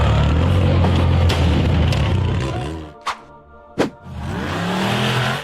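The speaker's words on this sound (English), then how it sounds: "The silver-gray buggy accelerated over a rocky ledge and charged up the rough slope" A silver-gray off-road buggy accelerates up a steep, rough, rocky slope with a loud, rising engine roar. The roar cuts out abruptly, then two sharp bangs follow, and the engine revs again.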